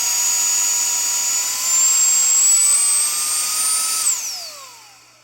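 Reikya HV-C11 handheld cordless vacuum running up close with a loud, steady high-pitched whine that climbs slightly in pitch, then cuts off and spins down over the last second, with no voices.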